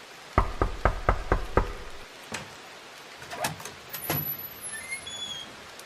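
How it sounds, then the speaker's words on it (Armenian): Someone knocks on a door with six quick, evenly spaced raps, close and loud, followed by a few scattered thuds and faint background noise. "թակեցին դուռը"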